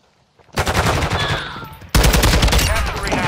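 Rapid automatic gunfire in Call of Duty: Modern Warfare II during a Control match, loud sustained bursts starting after a brief silence, then a second, heavier volley with louder low-end booms.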